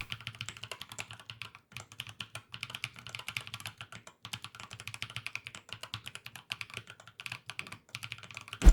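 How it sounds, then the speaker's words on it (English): Quick, irregular typing on thick UV-printed Dygma PBT keycaps gives a fairly quiet run of sharp, clacky keystrokes in bursts with brief pauses, close up and alone. "the keycaps themselves are really premium, thick PBT keycaps, which sound great."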